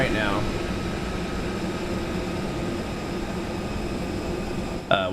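Airbus A320 auxiliary power unit in Microsoft Flight Simulator, running with the engines off after landing at Athens: a loud, steady broadband roar holding level throughout, with a faint voice briefly at the start and end.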